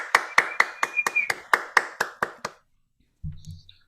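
Applause sound effect on a livestream: about eleven sharp, evenly spaced claps ring out and then stop abruptly, followed after a pause by a brief low rumble and faint tones.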